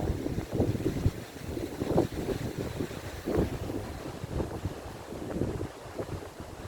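Strong gusty wind blows through a fruit garden with strawberries, buffeting the microphone in repeated low, rumbling surges that rise and fall for several seconds, with no talking.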